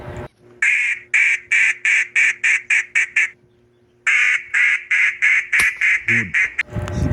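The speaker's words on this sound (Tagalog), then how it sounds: "Parang may umaligid na pato." Loud, close duck quacks in a rapid regular series, a pause, then another run of quacks, with a low steady hum underneath, during a duck hunt.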